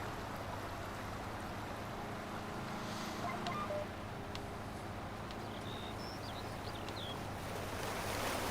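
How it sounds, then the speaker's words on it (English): Underground water flowing beneath farmland on the Red River Valley map in Farming Simulator 19, a steady, faint rushing hiss that runs unbroken and alone, with no voices. "I hear water underground. There's an aquifer underneath of us here."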